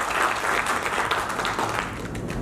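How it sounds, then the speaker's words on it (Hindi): Audience at a crane maintenance training session in Raipur, India, applauding: a dense, steady burst of clapping from a room full of people, loud and close, with no pauses. "एक बार तालियां बजाइए"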